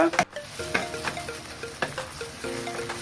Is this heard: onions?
yes